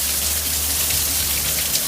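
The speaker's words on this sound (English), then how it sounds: "sheets of torrential rain pelted the city's buildings and streets" Torrential storm rain pours down on city buildings and streets in Washington DC, a dense, steady roar of pelting water with no pause and no voices.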